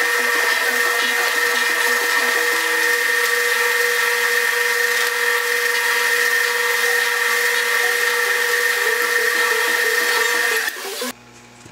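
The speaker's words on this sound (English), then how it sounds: "So I will get to drilling and we will come back with a mountable set of handle scales." A Dremel rotary tool drills glue holes in knife handle scales, a steady high-pitched whine running close and loud for about ten seconds before cutting off abruptly.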